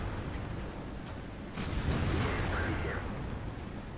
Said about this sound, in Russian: по мне арта все еще стреляет